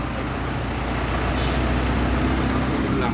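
An Isuzu Crosswind diesel engine idles with a steady, rough low rumble and a constant clatter, running continuously without change.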